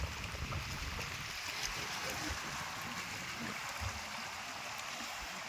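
Water laps softly near Rajdari waterfall in a faint, continuous swish and hiss of small waves, with an open outdoor ambience and no clear voices.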